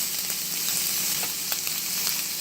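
Diced ham sizzles steadily in hot vegetable oil for fried rice, a dense, even crackle close to the pan with small pops and no talking.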